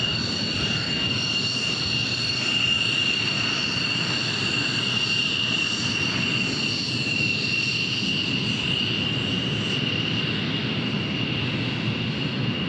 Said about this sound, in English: Yeah, Frederick, we got some F-16s